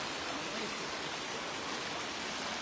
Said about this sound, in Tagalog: medyo malakas na po ang ulan dito ngayon